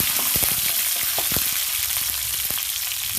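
Mustard seeds, garlic and green chillies fry in hot coconut oil for potato mezhukkupuratti. The hiss is dense and loud, with sharp pops and crackles close by and nobody talking.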